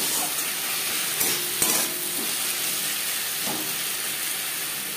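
Oil sizzles with a steady hiss as ginger and green chili paste fry in a pan for a Bengali katla fish tel jhal, with a few sharp clicks and stirring bumps over the constant frying noise.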